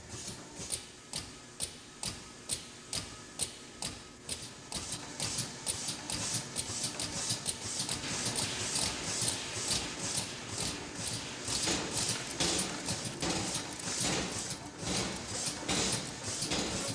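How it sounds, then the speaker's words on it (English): Test machinery pounds a bicycle frame with steady, rapid mechanical knocks: crisp regular strikes at first, then a denser, louder clattering rhythm of banging and crashing, with no talking. "the same banging and crashing, with machinery"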